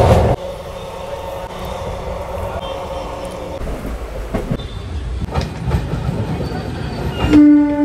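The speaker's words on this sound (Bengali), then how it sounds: "ছেড়ে দিল নৈহাটি স্টেশন।" The Teesta Torsa express pulls out of Naihati station in a rumbling, clattering wagon roar. Faint squeals and creaks come through, and a loud horn-like tone sounds near the end, with no talk over it.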